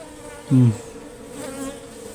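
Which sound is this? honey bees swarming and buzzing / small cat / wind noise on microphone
honey bees swarming and buzzing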